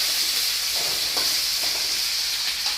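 Potatoes fry in sunflower oil in a home kitchen during a morning lunchbox routine, giving a steady, close, continuous sizzling hiss with a few faint clicks of stirring and no talk.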